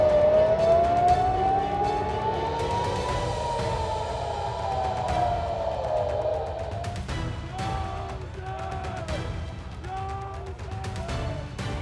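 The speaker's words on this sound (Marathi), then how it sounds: "इस्रायलच्या जेरुसलेम शहरावर हवाई हल्ल्याचा संदेश देणारे सायरन आज दिवसभर वाजत होते" Air raid sirens wail over Jerusalem, a loud rising and falling tone that sweeps up and slowly down, joined later by further siren tones and faint background talk.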